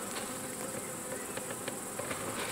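Honeybees in a beehive produce a dense, steady buzzing drone, close and constant, with individual bees zipping past now and then.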